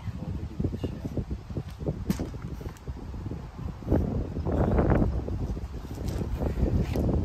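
Steady wind noise buffets the microphone in a continuous rushing roar, growing stronger partway through, with faint rustling underneath.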